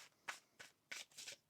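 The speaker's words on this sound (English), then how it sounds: "One more shuffle." A deck of tarot cards is shuffled by hand in quick, crisp riffling bursts, four or five close flurries in a row, fairly soft and with no talk over them.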